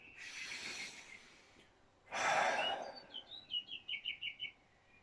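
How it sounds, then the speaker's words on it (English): A slow, deep inhale followed by a long, heavier exhale, close and breathy, with faint bird chirps twittering in the background at the end. "Allow, take another breath."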